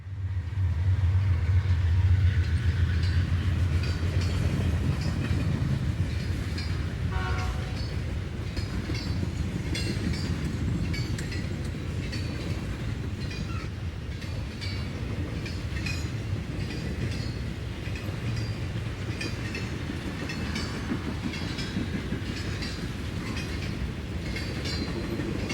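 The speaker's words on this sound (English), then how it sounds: "The 7679 is another C40-8W." A CSX freight train led by GE C40-8W locomotive 7679 rolls by on the Magnolia Cutoff, a steady heavy rumble with wheel clatter that continues unbroken for the whole stretch, close and loud.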